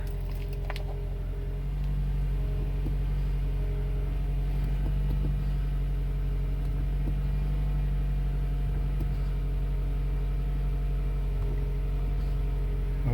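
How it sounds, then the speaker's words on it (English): A 2015 Toyota Camry's engine idles steadily after starting, a continuous low rumble with a strong hum that holds even throughout, close and alone with no talking. "And let's start the vehicle."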